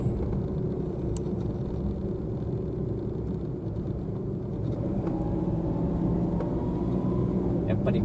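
Heavy car traffic passes near a supermarket while driving, heard from inside a car as a steady low engine and road rumble with a few passing vehicles, continuous and moderately loud.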